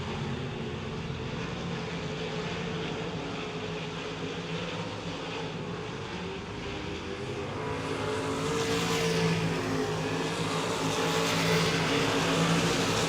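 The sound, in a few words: race cars at speedway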